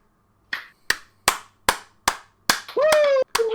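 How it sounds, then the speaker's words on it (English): Podcast hosts clapping hands together in a studio, several loud, distinct claps in a slow, even rhythm, followed by a brief sustained tone and one more clap. "Let's clap it out."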